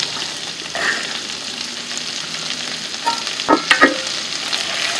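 Chopped celery cooks in a pan with steady, moderate frying sizzle, broken near the end by a couple of sharp clinks and scrapes as it is stirred.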